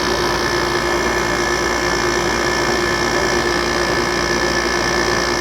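A steady, loud mechanical hum and vibration comes from the Hero compressor of an older Kenmore 5000 BTU window air conditioner with LG components, running continuously at close range.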